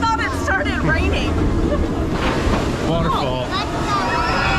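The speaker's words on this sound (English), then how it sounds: "Waterfall." Rushing, splashing water from a waterfall spray at Disney's Animal Kingdom, a steady broadband wash close by, with voices, shrieks and laughter over it throughout.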